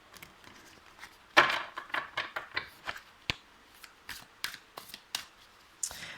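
Tarot cards being mixed by hand give a quiet run of soft, irregular snaps and flicks, close by, with one sharper slap near the start and no talking.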